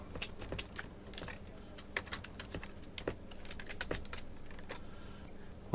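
Keys clatter on a computer keyboard while typing a word into a document, a steady run of quick, light clicks close by, with no voices.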